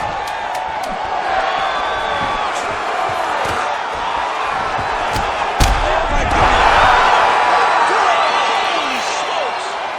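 Arena crowd in UFC 5 roaring and cheering after a knockout, a loud sustained swell of noise that builds toward the end, with a commentator talking over it.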